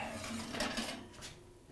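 A hot baking dish with a crusty cheese topping is lifted out of the oven with an oven mitt, giving close, continuous clinks and scrapes of cookware against the rack.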